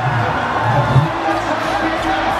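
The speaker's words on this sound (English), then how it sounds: "The Huskers and their traveling fans are celebrating at the moment." Crowd of traveling Quezon Huskers fans cheering and celebrating at a basketball game after a wild finish, a dense, steady roar of voices with shouts rising near the start, heard close and loud throughout.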